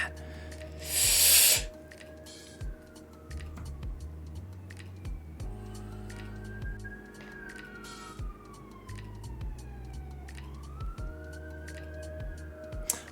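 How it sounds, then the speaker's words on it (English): A real emergency siren outside wails in long rising and falling sweeps, fairly distant, running under steady music with a low hum. "I had to double check that siren was in real life and not like part of the song or something."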